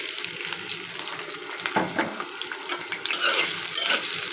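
Onions frying in plenty of oil in a wok, with a steady close sizzle broken by louder bursts and light scraping as they are stirred. No one speaks.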